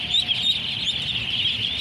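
High, thin chirping from ducklings, a continuous chorus of peeps close by with no talking.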